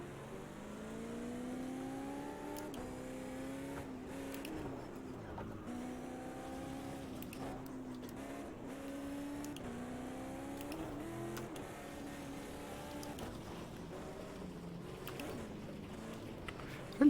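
Race car engines in a Project Cars 2 rallycross event, several motors droning and shifting up and down through gears in repeated rising sweeps, steady and moderately quiet with no talking.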